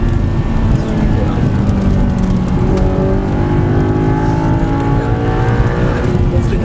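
Audi R8 with a V8 engine on a race circuit, loud and close, revving and accelerating through rising gear pulls with a steady roar, while an instructor talks over it.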